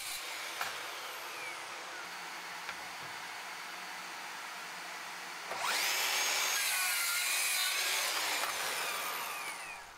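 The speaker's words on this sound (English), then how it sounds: "So I get the miter saw tilted over, and then I cut off the end of all the strips I ripped." A miter saw tilted over cuts the ends off ripped wood strips at a 30-degree angle: a steady motor whine, then a louder close cut biting through the wood for several seconds.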